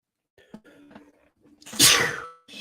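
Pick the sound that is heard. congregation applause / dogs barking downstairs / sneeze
sneeze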